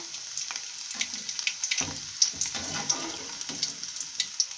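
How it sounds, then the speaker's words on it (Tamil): Peeled garlic cloves fry in hot oil on a low flame while making kara boondi, a close, bright crackling sizzle with scattered pops and a few soft clanks of a utensil, no voices. "பாருங்கள் பூண்டு நல்லா பொறிஞ்சிருச்சு"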